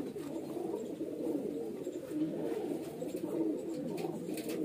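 A highflyer breeder pigeon coos continuously, a soft, low, rolling warble repeated close by with no talking.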